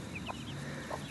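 Bantam hens raising baby meat chickens in an A-frame pen, heard as soft, brief clucks and chirps over a steady low background.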